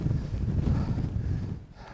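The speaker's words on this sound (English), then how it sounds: "I'd say this wind's probably about 30 mile an hour wind up here." Strong wind of roughly 30 miles per hour buffets the microphone on an exposed Lake District fell near Bampton Common, a gusty low roar that surges and eases before dropping off at the end.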